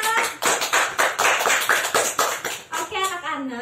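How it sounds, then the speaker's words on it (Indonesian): Children clap together in a classroom after a pupil named Dika answers, a burst of many quick hands that rings out loudly for a few seconds; an adult voice speaks just after the clapping. "Beri aplaus untuk Dika."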